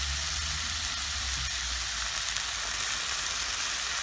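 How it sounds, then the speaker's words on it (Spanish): A splash of vinegar hits a pan of softened onion and sizzles loudly, a dense steady hiss that holds evenly throughout, close up. "Ahora le vamos a echar un chorrito de vinagre y la vamos a tapar."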